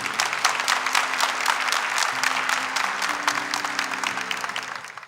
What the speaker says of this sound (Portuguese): Uma salva de palmas para a palavra de Deus.